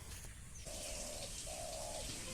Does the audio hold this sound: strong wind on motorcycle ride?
no